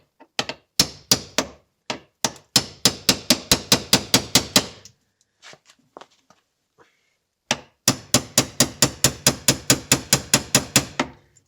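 A hammer strikes a Vessel Impacta impact screwdriver to drive out a stuck screw, landing two quick bursts of about a dozen sharp, evenly spaced metallic whacks each, close and loud, with a pause of faint handling between them.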